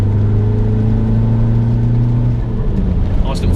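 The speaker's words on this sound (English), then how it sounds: "Nice little third gear pull there." Cabin view of a high-mileage VW Golf diesel pulling hard in third gear, a steady low engine drone that shifts near the end, heard up close.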